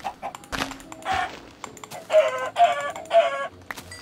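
Chickens clucking in Minecraft, the blocky survival video game, with several short bursts of clucks and squawks in quick succession amid game noises, no talking.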